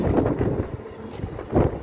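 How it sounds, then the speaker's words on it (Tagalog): Gusty wind buffeting a microphone outdoors in summer in Saudi Arabia, low rumbling whooshes that rise and fall, strongest near the start and end. "Nililipad yung sombrero ko ng hangin."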